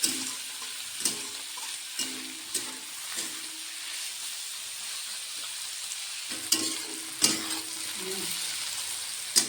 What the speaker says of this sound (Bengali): এটা হালকা ভেজে নিয়ে পাতাকপিটা পরে দেবো।